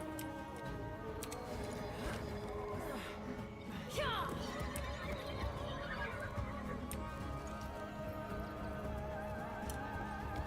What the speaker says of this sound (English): It's leading us here, where there's a horse-like being.